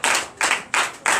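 Four sharp claps from a church congregation at a Sunday service in Benin land in a steady, even rhythm, sounding like many hands striking together in unison.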